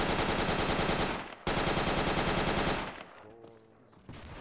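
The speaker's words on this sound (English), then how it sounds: "You can shoot through the bottom of the stairs." Automatic gunfire in the military shooter game Project Reality, long loud bursts of rapid machine-gun fire broken by a brief pause, then fading to quieter background noise and a short final burst.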